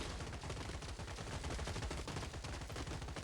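Rapid machine-gun bursts and sniper shots from robot combat in the strategy game Gladiabots, a dense continuous rattle of gunfire packed across the whole short stretch with no talking.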